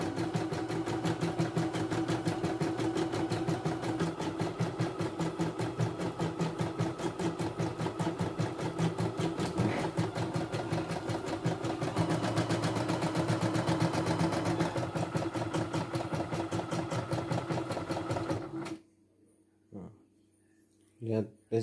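A CNY E960 portable computerized embroidery machine runs with a fast, steady mechanical needle rhythm for about eighteen seconds, then stops abruptly, leaving a few short knocks and near silence.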